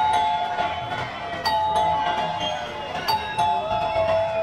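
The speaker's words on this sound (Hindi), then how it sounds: "करीब 5 मिनट बाद फिर से डोरबेल बजा।" A doorbell in an animated story gives a two-tone electronic chime three times at even intervals, clear and fairly loud over a light background murmur.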